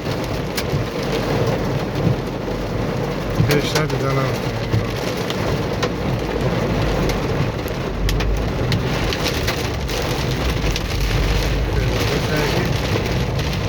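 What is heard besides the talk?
heavy rain in Dushanbe city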